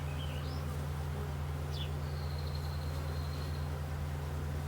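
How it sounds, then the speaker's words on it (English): Faint, steady hum of honey bees working inside an open hive during a hive merge, with a constant low drone beneath a few brief, higher buzzes of individual bees flying close past. "Bees are in there packing the pollen away."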